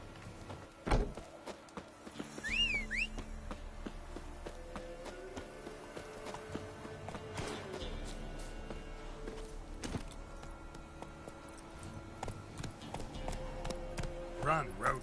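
Hooves of Roach, a horse in The Witcher 3, clopping unevenly at a moderate distance under game music and ambient sound, with a few sharper hoof hits along the way.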